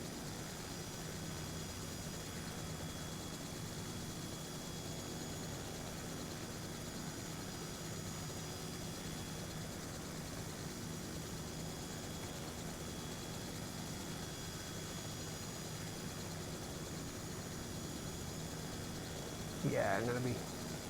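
A helicopter engine in a flight simulator game after takeoff, a steady low droning hum that holds constant throughout, with a brief louder burst near the end.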